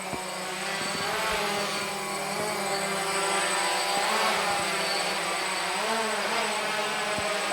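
A DJI Phantom drone flies nearby, its propellers giving a steady, continuous buzzing whine that holds at an even level throughout with slight shifts in pitch.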